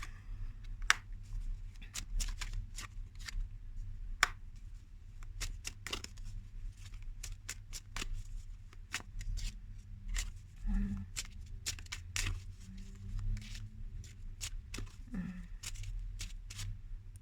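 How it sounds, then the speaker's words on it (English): A deck of cards being shuffled and handled, with crisp intermittent riffles and flicks scattered over steady low background hum, close and fairly quiet. "One more card doesn't want to come out."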